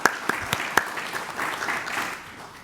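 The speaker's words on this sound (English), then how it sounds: "Let's give Erica a round of applause," Audience applause at the Canada-United States Law Institute Conference 2024 welcome session, opening with a few sharp individual claps before swelling into a steady, moderately loud round of clapping that tapers off.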